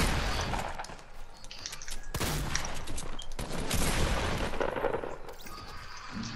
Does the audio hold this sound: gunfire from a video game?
yes